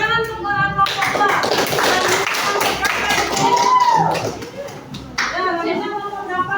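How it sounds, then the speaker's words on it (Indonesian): Schoolchildren in a classroom clap for a student group, dense lively clapping mixed with children's voices, loud and close, dropping off briefly before talking resumes. "tepuk tangan untuk kelompok 2"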